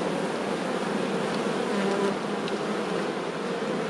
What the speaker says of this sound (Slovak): Tieto včelstva patrili medzi najsilnejšie